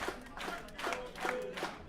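A studio crowd at a Championship Wrestling from Hollywood match at Glendale Studios cheers and claps in rhythmic waves, moderately distant, with voices mixed into the roar.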